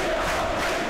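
A stadium football crowd at Wrexham versus Notts County roars in a dense, steady wash of massed voices, loud and continuous throughout.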